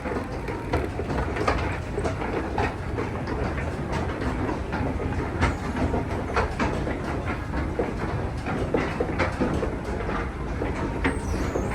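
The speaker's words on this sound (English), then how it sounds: "Listen to the creaking. I wonder what that creaking sound come from the rubber railing, I suppose." A historic Otis wooden escalator at Macy's Herald Square in New York City running with steady creaking and clattering, a continuous mechanical rattle dotted with sharp clicks, fairly loud and close, with no talking.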